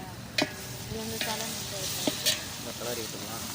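Green chilies, chili powder and mint fry in oil for a rice dish, making a soft continuous sizzle broken by a few sharp scrapes and knocks of a stirring spoon, with faint background voices.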